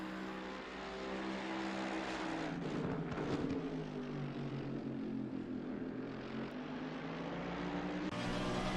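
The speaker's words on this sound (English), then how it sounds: "You can hear where they go off of the throttle and then where they go back on it." A race car engine in a racing video game at Barcelona drones steadily as the throttle lifts off and comes back on, its harmonic engine note shifting in pitch, fairly faint and with no talk over it.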